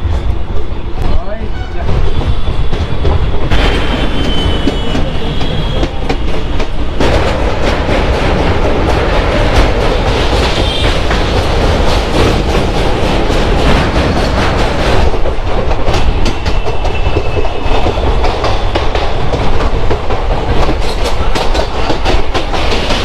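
A Kolkata–Digha passenger train runs along the rails, its steady rumble and clickety-clack of wheels over joints filling the whole stretch from inside the carriage, with people talking under the noise.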